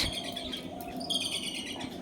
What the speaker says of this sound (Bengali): পাখিদের কিচিরমিচির ডাক